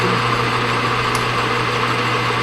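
A lathe taking a light cleanup cut across the outside diameter of a simple turned part, a steady continuous machining drone with a constant motor hum, loud and close, no talk.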